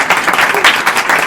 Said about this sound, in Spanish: Pues Bueno. un aplauso.